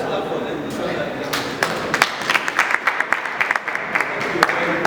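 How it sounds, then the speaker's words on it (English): Conference audience applauding the session speakers, sparse claps building into sharp, closer clapping over a few seconds, with a speaker talking through the start. "let's clap for them"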